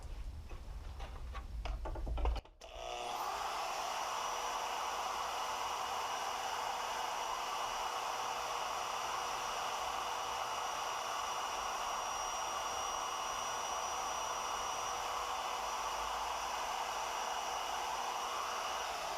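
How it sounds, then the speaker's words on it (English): A powered blade tool cuts off the last small piece of material, starting abruptly after a moment of faint clicks and running as a loud, steady, close whine without pause. "Just going to cut that last little bit off."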